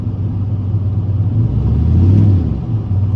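A turbocharged car with a ball-bearing 76/65 turbo rumbles loudly from inside the cabin under acceleration, a deep droning engine note that swells briefly as the wastegate opens.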